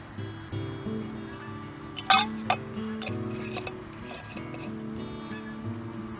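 Crabapple pieces drop into a glass for a foraged crabapple cider mimosa, giving a few sharp clinks and ticks near the middle over a faint steady background hum.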